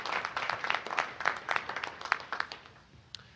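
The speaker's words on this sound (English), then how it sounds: "I think we owe a round of applause to our Board of Legislators" Applause for the Board of Legislators from a modest audience, scattered clapping from many hands that swells briefly and then thins out to a few final claps.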